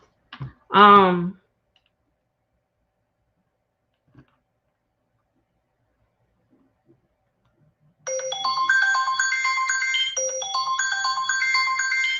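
A telephone ringtone plays loudly and steadily for the last four seconds, preceded by a brief vocal sound and near silence.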